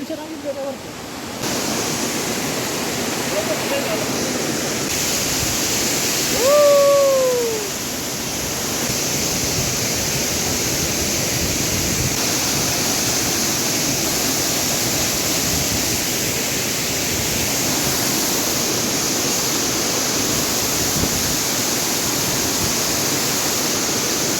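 Chamadka Falls sends out a steady, full broadband rush of falling water that holds evenly throughout, with one brief whistle-like call rising above it partway through.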